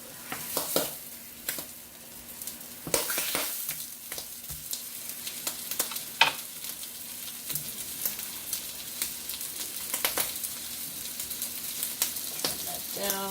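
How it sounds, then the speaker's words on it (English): Two pieces of Canadian bacon fry in a pan, a soft ongoing sizzle with sharp crackles and pops scattered throughout, plus a few louder spatters, heard up close with no speech. "fry up 2 pieces of Canadian bacon"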